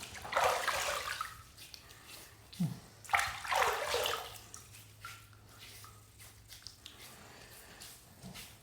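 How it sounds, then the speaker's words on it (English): Running tap water splashes in bursts as a safety razor is rinsed under it, close and moderately loud, with short pauses and a few clinks between splashes. "Let me just get a little bit of water, rinse it off, and do pass number 2."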